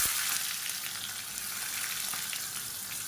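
Sliced small onions and skin-on garlic cloves frying in hot oil for a South Indian side dish, giving a steady, close hiss of sizzling throughout with no talking.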